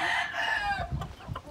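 A Mexican OG black gamefowl rooster crows close by, one strong cock-a-doodle-doo that trails off within about a second, followed by faint scuffling.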